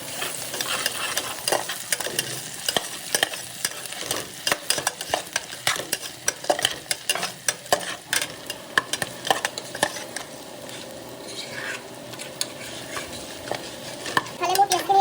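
Onions sizzle in a pan with ginger-garlic paste for a pulao, with a steady frying hiss under frequent sharp scrapes and clinks of a spatula stirring against the metal, close and continuous.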